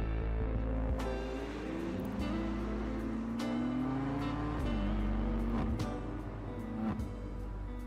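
A BMW car engine in GTA video game footage rumbles faintly in the background, its pitch rising and falling with the driving, with occasional sharp clicks.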